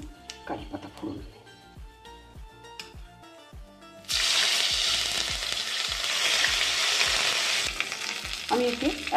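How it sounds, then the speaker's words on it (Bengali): Curry leaves dropped into hot oil already holding crushed cardamom and cloves burst into a loud, dense sizzle that holds steady. Before it, softer crackling frying and a few light utensil knocks can be heard. "আর দিচ্ছি একটু কারি পাতা ফোড়ন।"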